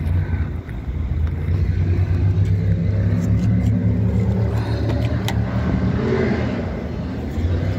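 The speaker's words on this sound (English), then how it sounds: "Wow, listen to those trucks and such." Loud trucks rumble past outdoors on a warm sunny day, a heavy low roar with wind buffeting the microphone, swelling and holding steady for several seconds, no voices.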